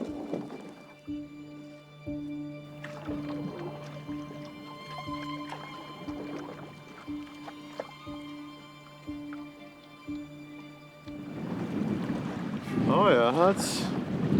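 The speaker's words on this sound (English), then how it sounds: "that's windy" Wind gusts across a lake in Algonquin Park during a canoe trip, with a steady hum and rhythmic knocks under a brief spoken remark, building to a louder rushing blast near the end.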